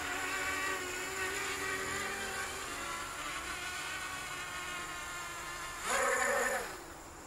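A ZMR250 quadcopter's motors whine on fast throttle, a steady buzzing drone near the microphone that surges louder in a brief burst near the end.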